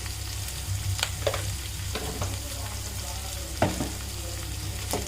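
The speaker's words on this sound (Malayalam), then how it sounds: "നമ്മുടെ സവാള ഒന്ന് മൂക്കുക." Sliced onion with a pinch of salt sautés in a pan for a pumpkin tamarind curry, a steady close sizzle broken by a few sharp clinks and scrapes of stirring.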